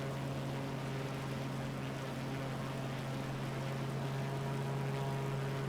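Airplane in Microsoft Flight Simulator flying after takeoff, with a steady droning engine hum and propeller tone that stays even and continuous, with no talking.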